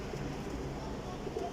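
Pigeons coo softly in a quiet, steady murmur, with low background noise throughout.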